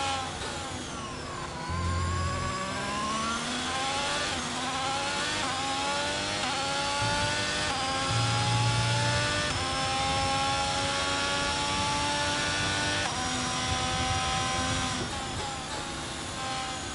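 A Formula 1 car engine in F1 22 at Silverstone, a loud, continuous high-pitched whine rising and falling through gear changes and throttle lifts.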